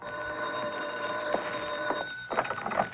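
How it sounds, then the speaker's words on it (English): Telephone bell ringing in a 1953 radio drama, a bright electric ring that sustains steadily and clearly in a quiet room for a few seconds. "I got a phone call."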